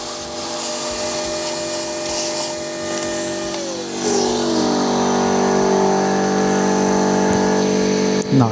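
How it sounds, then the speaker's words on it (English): A hoover runs steadily nearby, sucking debris out of holes in a truck camper workshop, its droning whine shifting pitch midway as the nozzle moves, with a scraping rub and a short clunk at the end. "use the hoover at the same time"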